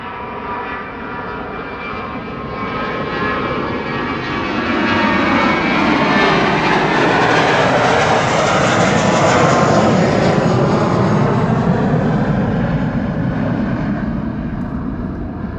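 An Emirates Airbus A380 jet at Schiphol airport produces a loud, broad engine roar that swells and holds steady as the aircraft passes, with no talk over it.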